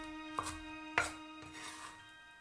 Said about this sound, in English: Cut the parsley into sections.